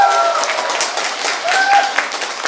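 Studio audience at a public broadcast in a live hall applauds in a dense, continuous wash of clapping, with faint voices mixed in throughout.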